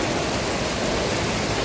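Heavy rain pours down outside in a dense, steady hiss, loud and unbroken for the short stretch, with no voices.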